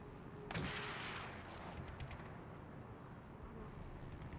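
A single sharp sniper rifle crack rings out in a World War II battle in Call of Duty World at War, loud and sudden, then fades into a quiet, low ambient rumble.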